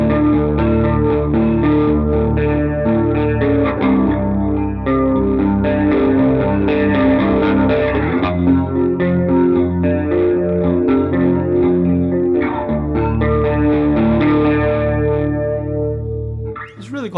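Electric guitar through a Bias FX 2 Pro pop preset plays sustained, washy chords with chorus shimmer, mild distortion and echo, thick in the low end, held continuously and close before cutting off at the end.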